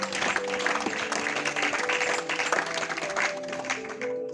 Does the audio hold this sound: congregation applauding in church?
yes